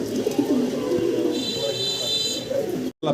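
Pigeons kept for sale coo nearby, with soft throaty calls and bird sounds mixed with a man's speech, ending in a brief cut to silence.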